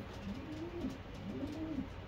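Two soft, close racing pigeon coos come one after the other over a steady background hum, with no one speaking.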